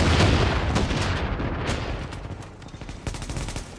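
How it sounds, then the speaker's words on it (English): Video game gunfire crackles in dense, rapid bursts throughout, with loud close shots and overlapping volleys that thin out slightly midway before picking up again. "Who started shooting me?"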